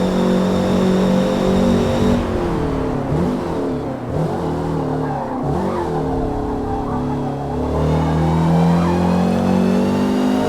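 A race car engine in the Forza Motorsport video game roars loud and steady throughout, revving and shifting pitch through gear changes, with a brief tire squeal mixed in.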